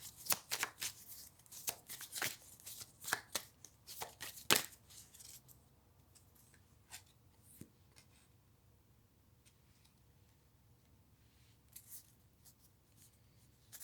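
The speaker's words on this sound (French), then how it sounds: "Je vais rebattre les cartes." Tarot cards are shuffled by hand in quick riffles and snaps, a burst of crisp, close flutters that tapers into sparse, quieter taps and slides against a low background hum, with no voices.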